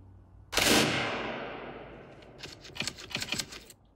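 A single sharp gunshot cracks out and rings away, followed by a quick burst of smaller clattering snaps.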